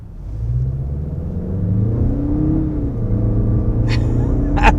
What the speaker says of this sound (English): even when you're just accelerating more casually, the torque figure just feels so good